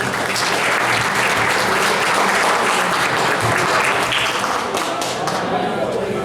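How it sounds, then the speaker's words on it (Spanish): An audience at a school literature night of horror and suspense stories claps loudly and steadily for a performer, a thick, sustained roll of many hands with some voices underneath. "Un aplauso enorme a nuestro buen talento de Carlos Acevedo"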